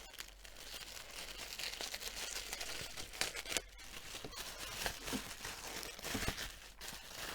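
Tissue paper and butterfly washi tape being handled close up, with soft continuous crinkling and rustling and occasional sharper tearing or crackling bursts, no voice present.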